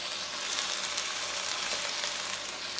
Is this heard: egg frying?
yes